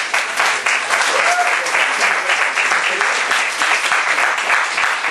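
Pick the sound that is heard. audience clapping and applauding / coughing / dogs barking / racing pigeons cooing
audience clapping and applauding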